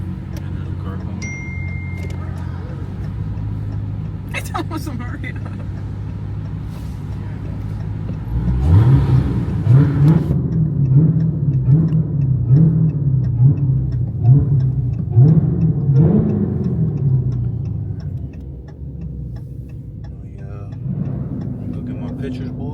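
A car passes close by outdoors, a rising engine rumble that swells for several seconds and then fades away, with people talking over it.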